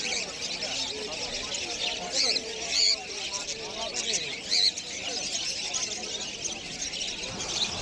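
At a pet market, exotic finches including long-tails, Gouldians and Java sparrows keep up a faint, busy chorus of high chirps and tweets. Voices murmur underneath.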